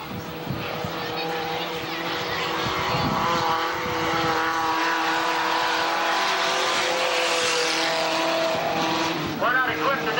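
A race car runs through turn 4 at Tonopah Speedway, its engine roaring steadily for the whole stretch, with a brief tire squeal near the end.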